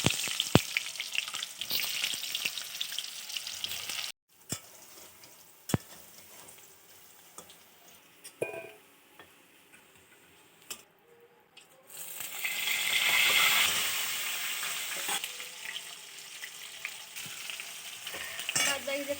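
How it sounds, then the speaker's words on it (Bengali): Potatoes frying in plenty of oil with a pinch of salt, a close, crackling sizzle with stirring clicks, briefly dipping quieter midway before a louder hissing surge near the end, no voices. "এবার আলু ভাজা হবে। বেশি করে তেল দেওয়া হলো"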